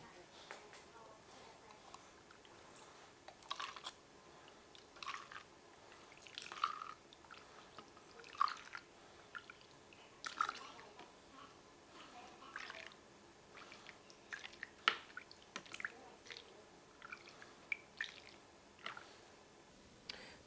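Homemade Instant Pot chicken stock is strained through a strainer into a pitcher and poured into individual cups, soft liquid drips, squishes and splashes coming in scattered bursts, quiet and close.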